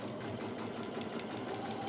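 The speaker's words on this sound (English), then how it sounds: "And sew this down." A sewing machine runs steadily while sewing down fabric for a DIY rug, a continuous low whirring hum close by that stays even throughout, with no voices.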